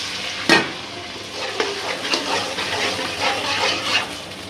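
A splash of water hits a sizzling spice paste frying in a pan for chicken roast, giving one sharp loud burst that settles into steady crackling, with a few more scraping and bubbling swells after it.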